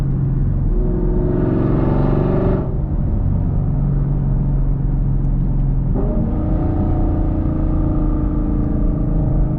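A 500 wheel-horsepower Camaro SS V8 pulls hard from inside the cabin, a loud, rising engine roar that climbs, drops at a gear change, and climbs again.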